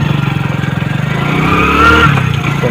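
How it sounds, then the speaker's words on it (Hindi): A motorcycle with a fault that makes it stall when slowing pulls away in first gear, its engine giving a loud, close, throbbing putter that rises slightly in pitch as it accelerates. "देखना मेरा बाइक स्मूथली चलेगी"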